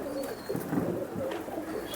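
Soft, repeated cooing comes from an old-breed flying pigeon kept on a rooftop loft in old Jammu city, with low, throaty calls rising and falling close by and no voices over them.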